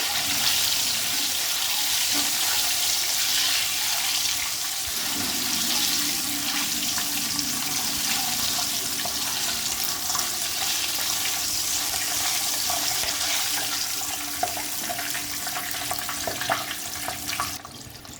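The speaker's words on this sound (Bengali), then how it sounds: "ডিমগুলো হালকা লাল লাল ভাজবো।" Eggs frying lightly in hot oil in a kadai, a steady, continuous sizzle and hiss held close and fairly loud throughout, with no talking.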